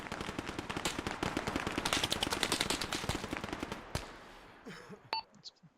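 Rapid automatic gunfire from the video game Arma during a night co-op convoy mission, dense bursts of shots for about four seconds, then a single loud crack and scattered fainter shots trailing off.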